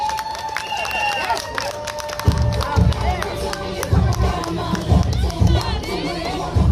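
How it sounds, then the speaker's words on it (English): An audience at a San Francisco Day of Appreciation event applauds and cheers for the mayor, with a dense burst of clapping and crowd noise swelling partway through, mixed with voices and hubbub. "give her another round of applause"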